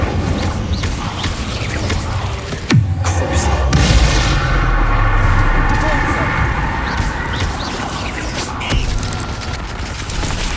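Incendio fire spell cast against a giant spider during a trial in Hogwarts Legacy, a sharp magical burst and roar over dense, constant game effects and rumbling combat noise.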